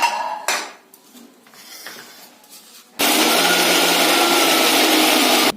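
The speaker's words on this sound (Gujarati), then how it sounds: "અને મિક્સરમાં આપણે દરદરું ક્રશ કરી લેવાનું છે." A mixer grinder coarsely crushes pieces of fried chickpea-flour muthiya, starting after a few seconds of clinks and handling noises, then roaring loud and steady close by.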